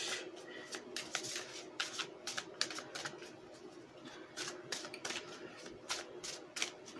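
A deck of tarot cards being shuffled by hand gives quiet, close bursts of riffling and flicking in irregular clusters, with soft room noise between them and no speech.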